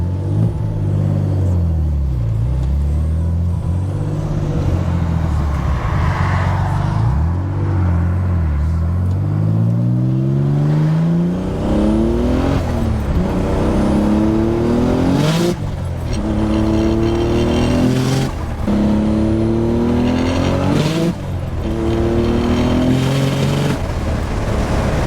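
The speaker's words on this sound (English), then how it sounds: "let's just go for a drive in the car and let's enjoy it." A Nissan 300ZX drives close by, its engine droning and revving through repeated rising gear pulls, each climb breaking off at a shift, with a steady road rumble underneath and no talking.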